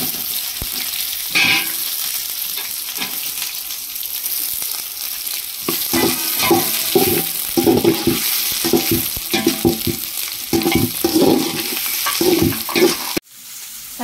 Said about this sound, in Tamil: அதனால வெங்காயம் நல்லா பொன்னிறம் வதங்கிடுச்சுங்க.